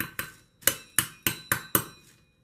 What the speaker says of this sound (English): So trying to crush up candy canes is quite a bit more difficult than I thought it would be.